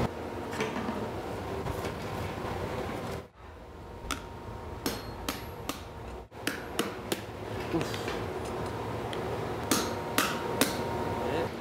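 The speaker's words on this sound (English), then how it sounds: "It's an endless repetition of heating the vessel in the fire, and then taking it out and hammering it." A heated metal vessel is hammered by hand in a traditional workshop, with sharp ringing blows falling in irregular clusters over a low background hum, separated by short pauses.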